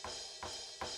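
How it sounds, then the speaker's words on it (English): Three crashing electronic drum cymbal hits on the edge of a mesh-pad kit ring out at an even pace, each bright wash decaying quickly before the next, fairly quiet and alone. "you can also hit the cymbals on the edge"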